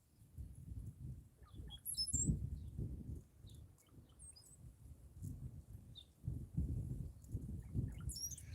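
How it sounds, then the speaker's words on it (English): Small birds chirp in brief scattered calls behind a carp fishing spot, light and fairly faint over a steady low rumble of outdoor wind or water. "Got some birds back here chirping behind me."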